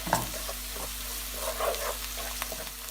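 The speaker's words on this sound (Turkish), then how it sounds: "Kavrulan soğanlarımızın içerisine bir yemek kaşığı domates salçası, 1 tatlı kaşığı da biber salçası ilave edip salçamızın kokusu çıkana kadar kavuralım." Onions sizzle and fry in a pan with tomato and pepper paste stirred through, a steady crackling hiss with small spoon scrapes, close and moderately loud, no talking.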